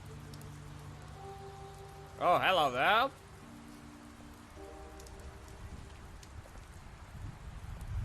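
Steady rain falls in The Wolf Among Us video game, a soft continuous wash beneath a brief spoken greeting and low tonal game sounds.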